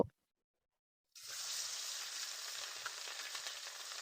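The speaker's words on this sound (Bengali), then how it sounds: "এবার মাছের ডিমগুলো ভালো করে ভেজে নিতে হবে" Steady, crackling sizzle of fish roe frying in hot oil, starting abruptly after a brief silence and continuing evenly close by.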